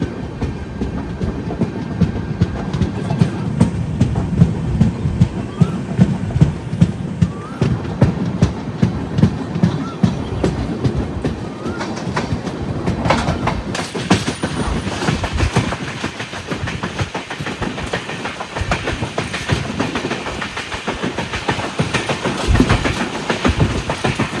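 Wheels of the Thiruvananthapuram–Veraval Express clatter over rail joints, heard from inside a 2AC coach as a loud, continuous rhythmic clickety-clack with rumbling underneath and no talking.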